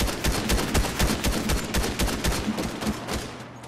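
Rapid assault rifle fire in Fortnite Reload rattles out in a fast, continuous stream of close, loud shots with no talking.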